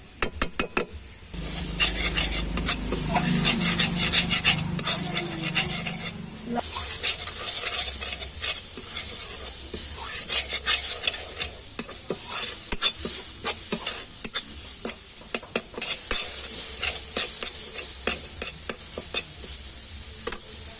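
Elephant foot yam (suran) is stirred and fried with a spoon in a pan: a steady sizzle runs throughout, with repeated scraping strokes of the spoon against the pan, close and fairly loud with no talk.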